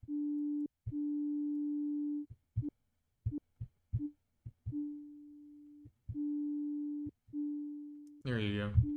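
A synthesizer plays a pinging tone, a steady pure note repeated in on-off bursts of varying length, some clipped short and some fading away, and then a brief voice at the end.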